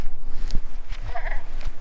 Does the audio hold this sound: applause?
no